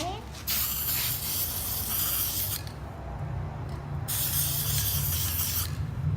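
Black spray paint hisses from an aerosol can in bursts over water in a tub for hydro dipping a clamp, with a short pause in the middle and a few people talking nearby.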